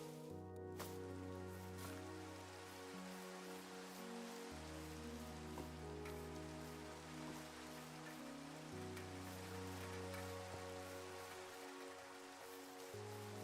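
Steady rain from a Minecraft sound mod patters softly and continuously over a low droning background tone that shifts pitch every few seconds, faint and unbroken, with no voices.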